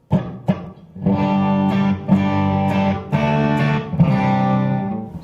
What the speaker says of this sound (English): This is my sound without any pedals on whatsoever.